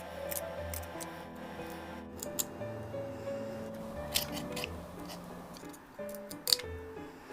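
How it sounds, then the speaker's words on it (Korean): Kitchen scissors snip the legs off raw shrimp, giving several sharp, scattered cutting clicks over a low hum and faint music. "가위를 이용해서 다리를 자르고 꼬리 가운데 뾰족한 물총을 제거해 주고요"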